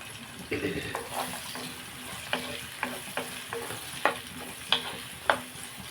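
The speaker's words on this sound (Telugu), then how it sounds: "ఆయిల్ హీట్ ఎక్కింది కదండి ఆనియన్స్ మీరు వేసేసుకున్నాం" Onions sizzle in hot oil while a spoon scrapes and stirs the pan in repeated strokes, close and clear.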